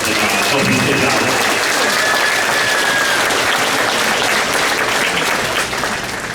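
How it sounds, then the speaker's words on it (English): Loud, dense applause from a crowd at a school spaghetti dinner with a fifth grade band, honoring a volunteer who helped the kids; clapping stays steady and close throughout, with some crowd murmur underneath. "I just want to give him a nice round of applause and thank him for coming down and helping these kids out"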